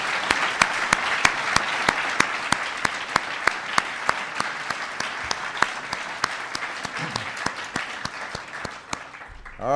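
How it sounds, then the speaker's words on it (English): A crowd applauds steadily for about ten seconds, with sharp individual claps standing out above the dense, continuous patter. "Give them a big round of applause."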